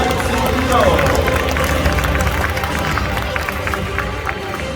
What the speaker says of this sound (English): Have a loud round of applause for Nelson